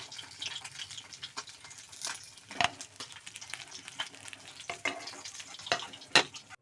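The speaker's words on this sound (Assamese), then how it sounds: "এয়া মাছৰ মাথা মই ফ্ৰাই কৰি হৈ গ'ল" A fish head fries in hot oil in a kadai on a gas stove while making Assamese muri ghonto, a soft steady sizzle with crackles and occasional sharper pops, quiet and close, no voices.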